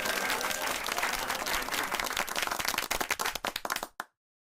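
Applause for the pro team at a podcast debate: a dense, steady clapping from a small audience that thins into scattered claps and stops abruptly.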